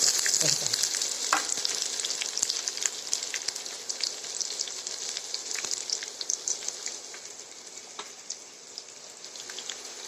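Curry leaves and chopped garlic frying in hot oil, a loud, dense, crackling sizzle that spits and pops continuously throughout, slightly easing toward the end.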